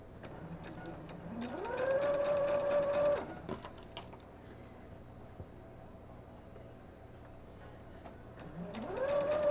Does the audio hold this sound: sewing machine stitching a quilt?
yes